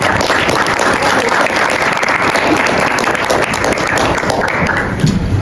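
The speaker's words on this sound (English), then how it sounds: "let's have a round of applause for our" A large student audience at a university campus address breaks into sustained, loud applause, dense overlapping claps filling the hall evenly throughout with little speech.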